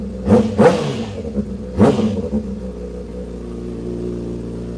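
A motorbike engine fires up from cold and revs in three sharp bursts, then settles into a steady, close idle with no voices.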